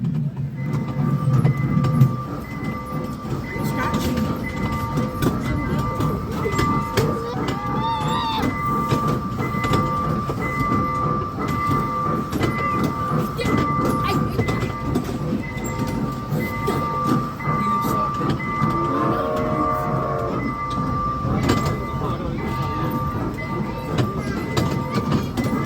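A Magic Train amusement ride train at an outlet mall rolls along with a steady low rumble and rail clatter, a faint whine and squeal rising briefly near the end.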